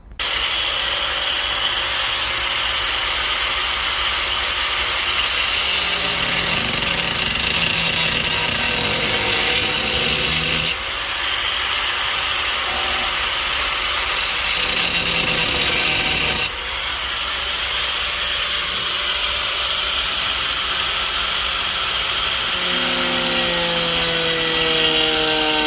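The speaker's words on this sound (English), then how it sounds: "now I'm going to take the cutoff wheel and cut, like I told you guys, right along that line" A cutoff wheel grinds through the metal of a car trunk shock bracket on a Honda CRX under restoration, producing a loud, continuous abrasive roar with a ringing tone and two brief breaks partway through.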